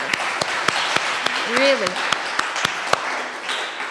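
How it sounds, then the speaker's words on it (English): Applause for students and teachers at a network symposium, a sustained patter of clapping under a brief spoken word and a rising tonal sound near the middle. "So let's give a round of applause to all of our students and teachers."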